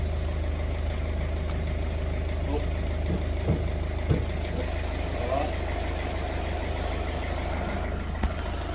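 A 21-year-old BMW 320d E46 diesel engine idles with a low, steady hum and faint rattle, continuous and close, while a few soft clicks and a voice sound faintly now and then.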